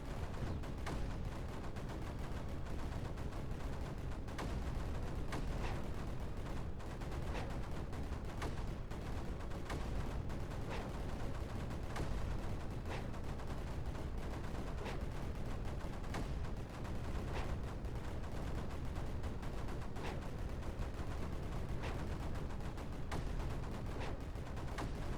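Repeated mortar fire in the Creeper World 4 strategy game, a faint continuous patter of small thuds and pops at an irregular rapid rhythm, low in the mix for the whole stretch.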